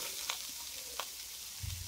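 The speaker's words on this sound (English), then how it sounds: "I just added my okra. And I'm going to fry it up" Okra is dropped into a pan of frying tomato seasoning and sizzles with a steady, soft hiss, broken by a few light crackles and a brief stirring clatter near the end.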